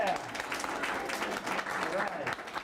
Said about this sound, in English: He's going to come in right now to uproarious applause as he steps in the door.